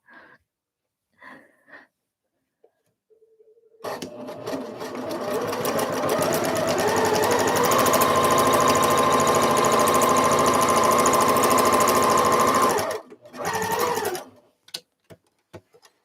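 A home sewing machine stitches embroidery samples in one long continuous run of steady, loud, rapid whirring, with a few short bursts of stitching before and after it.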